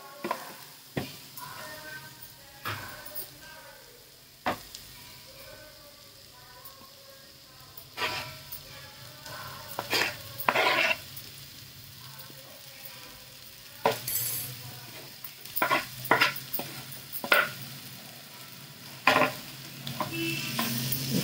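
Mashed bottle gourd sautéed with cooked onion and tomato in a pan, a steady soft sizzle broken by repeated scraping stirs of a spatula, with clinks of the utensil against the pan.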